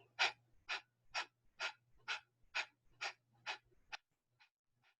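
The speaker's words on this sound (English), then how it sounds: "just breathing through my nose, I'll be activating my breath" A person breathes deeply in and out through the nose in a steady, calm rhythm, about nine close, clear breaths with a low hum underneath, the last few fading softly.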